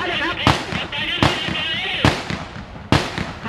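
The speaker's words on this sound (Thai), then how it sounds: "จะได้ยินข้าศึกยิงปืนถอยหลังยิงปืนถอยหลังไปเรื่อยนะครับ" Simulated gunfire at a Thai army training demonstration for new recruits: four sharp, loud blank-round shots spaced about a second apart, ringing over a busy background of crowd noise and an announcer's voice.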